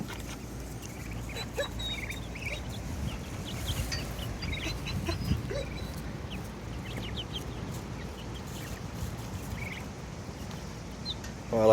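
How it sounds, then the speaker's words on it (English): White chickens, with a white duck among them, cluck and call just after leaving a transport cage, a steady mix of nearby fowl chatter over outdoor background noise. "Oh, I like these white chickens, man. They're good looking chickens."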